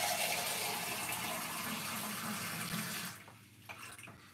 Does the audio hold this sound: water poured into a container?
yes